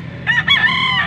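A Gilmore Hats-breed rooster, about three years old, gives a single loud, close crow with a rising start and a sustained harmonic call lasting about a second, with no talk over it.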